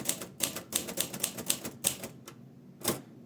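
A Royal Aristocrat typewriter is typed on with the shift keys in use, giving a quick run of sharp close key strikes, a brief pause, then one last clack.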